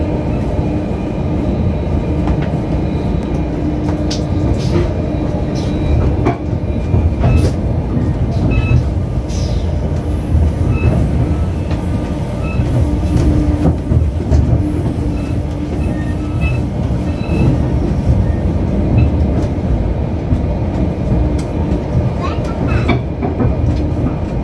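A passenger train runs on rails with a loud continuous rumble of wheels, occasional clicks and faint squeals, heard from inside the carriage over the whole stretch.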